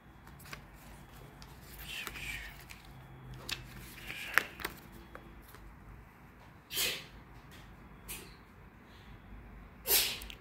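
Two short, sharp sneezes come from a little distance in an otherwise quiet room.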